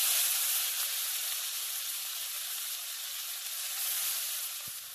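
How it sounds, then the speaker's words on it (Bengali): Chopped onion sizzles and fries in hot mustard oil, a steady bright hiss that holds even and fairly quiet throughout, with no talking. "তেলটা তো গরম হয়েই আছে, একটু ভালো করে মিশিয়ে নিয়ে এবার দিয়ে দেব কেটে রাখা পেঁয়াজটা।"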